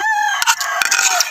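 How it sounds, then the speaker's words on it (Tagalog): A gamecock rooster raised for cockfighting crows loudly and close up, one bright, harmonic cock-a-doodle-doo with no other sounds around it. "pipiliin mo ang manok na laging nagtitilaok."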